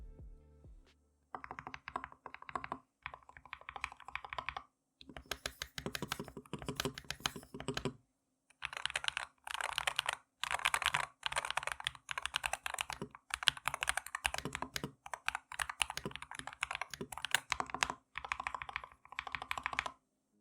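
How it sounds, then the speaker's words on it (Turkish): Fast, continuous typing on a Madlions MAD68 magnetic-switch mechanical keyboard, crisp clacky keystrokes in rapid runs separated by brief pauses, close and clear with no voices. "Duyduğunuz gibi sesi bu fiyatta bir klavyeye göre manyetik switch olmasına rağmen gayet iyi."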